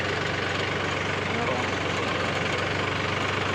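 A tractor engine chugs nearby near a farm plot, a steady low rhythmic thrum with fine knocking pulses running evenly throughout.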